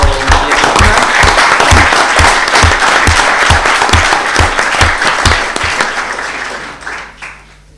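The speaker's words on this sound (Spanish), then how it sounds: "Entonces, un aplauso por favor por María Cristina." Closing-ceremony audience at a Latin American political ecology congress applauds the event organizer, a loud, dense burst of clapping with heavy rhythmic claps near the microphone, tapering off and fading out over the last second or two.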